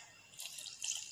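Milk is poured into a mango kulfi mixture, a brief, close, soft splashing and trickling of liquid lasting about a second.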